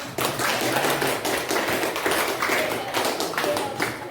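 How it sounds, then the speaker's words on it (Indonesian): Students in a classroom clap together after a classmate's turn, a dense patter of hand claps sustained for about four seconds with some voices mixed in. "tepuk tangan dulu"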